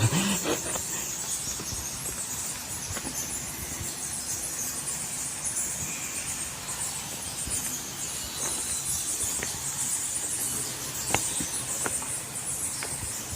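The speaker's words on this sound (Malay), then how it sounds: "Tu bunyi kelawar." Bats' high, thin squeaks chatter continuously over a steady hissing background, with occasional faint clicks; no voices.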